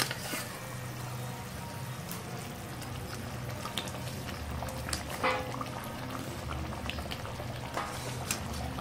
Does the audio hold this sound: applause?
no